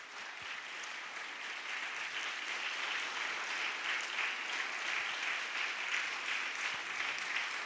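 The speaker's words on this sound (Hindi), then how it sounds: "ताली बजाएंगे जोर से, हालेलुया" A church congregation at a fasting prayer session claps together in a sustained, even wash of applause, heard from a distance at fairly low level.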